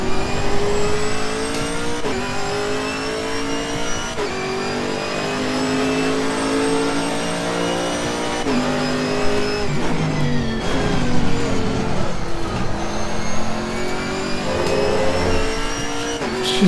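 Chevrolet Camaro GT4 race car in Assetto Corsa Competizione at Bathurst, its engine revving loudly and continuously through upshifts and downshifts, with brief tyre squeal as the car squirms under braking.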